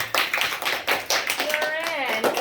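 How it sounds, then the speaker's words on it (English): A school audience claps for a student receiving a monthly virtue award: scattered hand claps and taps mixed with voices and cheering over a short burst. "Let's give her a clap."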